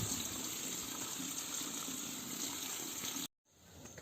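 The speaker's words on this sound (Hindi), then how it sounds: "देखो, ये छोटा पानी आ रहा है और ये पानी इसमें गया" A small stream of water runs steadily into a tank at a village spring, a continuous close trickling rush that stops abruptly near the end, leaving faint outdoor ambience.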